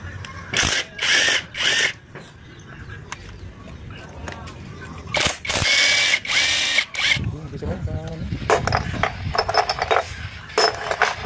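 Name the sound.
unscrewing screws on a Honda CB125 motorcycle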